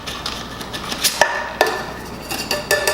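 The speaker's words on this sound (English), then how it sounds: "we're gonna shake this drink. And you wanna shake this really good" Cocktail shaker rattling as a drink is shaken, a rhythmic series of clinking ice and metal hits, close and fairly loud, with no talking.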